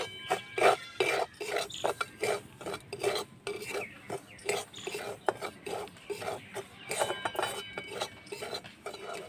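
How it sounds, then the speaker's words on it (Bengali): Semolina frying in a little ghee in a kadai, stirred with a metal spoon: rhythmic scraping and clinking strokes, close and fairly quiet, with a faint sizzle beneath. "এবারে আমি হাফ বাটি সুজিটা দিয়ে দেব, দিয়ে আমি এবার ভেজে নেব।"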